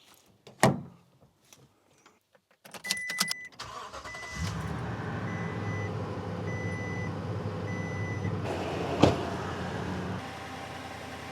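A truck engine idles steadily close by, with a door thud and a few sharp clunks at the start and a faint repeating reversing beep over the running engine.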